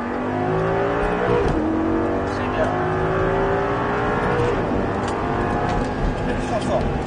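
A sports car accelerates hard on the Folembray racing circuit during a driving course, its engine droning loud and rising in pitch through the gears, with an instructor speaking briefly over the noise.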